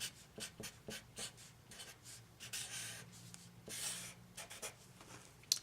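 A marker squeaks and scratches across a board in short strokes while working through a trig substitution problem, close and fairly quiet, with no talk.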